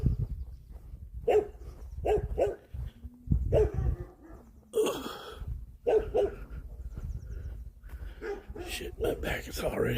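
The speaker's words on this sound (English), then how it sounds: "Except for that dog." A dog barks several times nearby in a quiet outdoor spot, short sharp yelps scattered through the stretch while a person talks over them.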